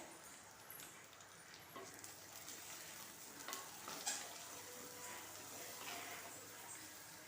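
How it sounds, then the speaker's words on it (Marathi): Ground masala paste frying in oil for a brinjal curry, a steady quiet sizzle with occasional stirring scrapes and one brief sharp clink. "आता वाटण सुद्धा छान आपल्याला तेलामध्ये परतून घ्यायचं आहे दोन मिनटं"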